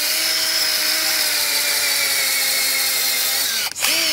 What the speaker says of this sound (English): I love this auger.